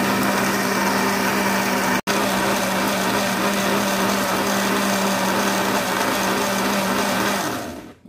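Blender running steadily at high speed, processing butiá fruit to separate the pulp from the seeds; a loud continuous motor whine with a brief cut near two seconds, then winding down at the end.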